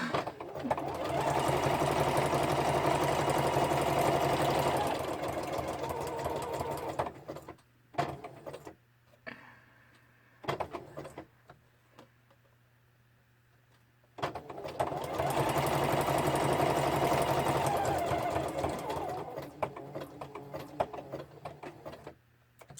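A sewing machine stitches in two long, loud, whirring runs, each lasting several seconds, separated by a quieter stretch with brief starts, faint clicks and a low hum.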